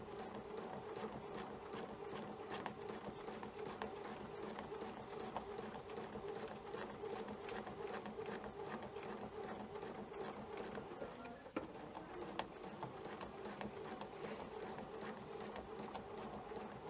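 A sewing machine runs steadily at speed, stitching quilt fabric against a snowflake ruler with large stitches; a continuous, moderately loud mechanical hum and rapid needle rhythm persists throughout, with one brief hiccup partway.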